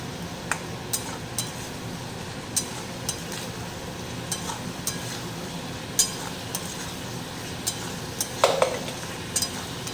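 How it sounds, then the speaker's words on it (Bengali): Potatoes tossed with spices and slit green chillies in a hot kadai, oil sizzling steadily while a spatula scrapes and clinks against the metal pan in irregular strokes, close and fairly loud. "ভালো করে মশলার সাথে আলুগুলো নাড়াচাড়া করে মিশিয়ে নিচ্ছি।"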